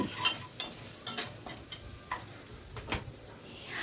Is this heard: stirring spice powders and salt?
yes